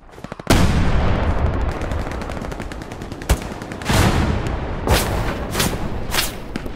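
Tank gunfire in Hell Let Loose pounds close and loud: a heavy opening blast followed by dense rumbling fire and several sharp shots and impacts spaced through, with no talk.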